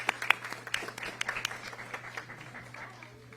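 People in a room at a school board meeting clap for students, a short scatter of sharp, uneven hand claps that thins out quickly over a low steady hum.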